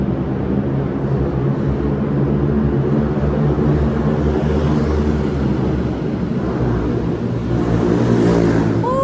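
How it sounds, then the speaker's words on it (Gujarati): A Ninja motorcycle's engine drones loud and steady as it rides through a mountain tunnel on the Amarnath Yatra route, echoing with a deep, sustained roar and slight revving near the end. "બાઇકનો અવાજ કેવો આવે સાંભળતો"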